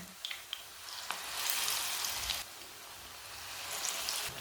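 Wheat flour breakfast pieces frying in hot oil in a pan, giving a steady close sizzle that swells and fades in waves, with a few soft clicks and spatters and no talking.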